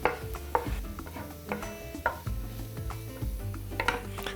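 A spoon repeatedly scrapes and knocks against a pan while onion, celery and herbs fry, with a faint sizzle underneath and irregular clanking strokes, close by and without talking.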